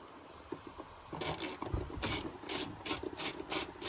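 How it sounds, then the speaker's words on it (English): T30 Torx screws being loosened and backed out of a Porsche Cayman engine cover, giving a run of five or six short, close ratcheting and scraping bursts in a steady rhythm after a quiet start. "we've got two T30 Torx in here, so we'll remove those"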